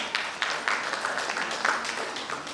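Audience applause at a direct selling training and motivation event, steady crowd clapping with a few louder bursts, fairly distant and continuous with no talk over it.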